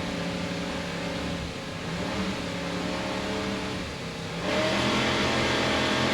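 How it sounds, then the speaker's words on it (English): Twin 800-horsepower Mercury inboard engines rev on a racing powerboat at the start of a race off Daytona Beach, a continuous loud mechanical roar with layered droning tones that rises sharply near the end. "Let's listen to those Mercury engines as they rev up and start the race."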